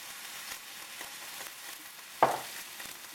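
Seasoned beef searing in a pan for vegetable beef barley soup, a faint, even sizzle with a single louder spatter or clank near the end.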